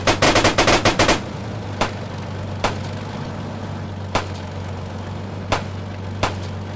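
Gunfire in a video game war battle: a rapid burst of close, loud automatic fire, then single sharp shots spaced a second or so apart over a low rumbling background.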